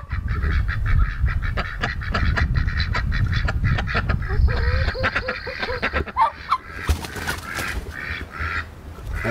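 Homestead poultry honk and call in spring, goose-like honks and quacking from several birds, loud and continuous with sharp bursts toward the end, and no talking.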